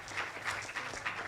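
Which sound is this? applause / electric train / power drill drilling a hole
applause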